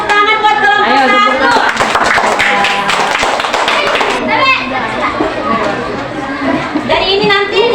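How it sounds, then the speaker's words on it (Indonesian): Children in a classroom clap for a group, loud patches of handclapping tangled with lively kids' voices, shouting and chatter that stay prominent throughout. "beri tepuk tangan buat kelompok"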